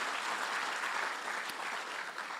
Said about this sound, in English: Another warm round of applause for our keynote speaker.